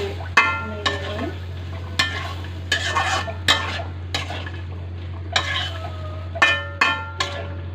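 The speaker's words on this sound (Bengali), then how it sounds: "ডাটাটা দিয়ে দিয়েছি, ভালো করে নেড়ে নিই।" A spoon stirs rui fish curry in a pan after drumstick stalks go in, with scraping strokes against the metal and a light sizzle underneath, close and without talk.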